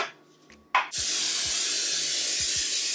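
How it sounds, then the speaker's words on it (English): A short click followed by a continuous, loud hiss of olive oil aerosol spray onto a loaf pan that lasts several seconds, close up, with faint knocks in the background. "I'm still gonna just spray a little bit of olive oil"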